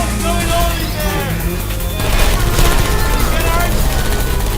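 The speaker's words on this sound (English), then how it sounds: "I heard gunfire!" Gunfire in Portal 2 gameplay, a rapid dense burst of shots and clatter that grows louder midway, mixed with game voices speaking.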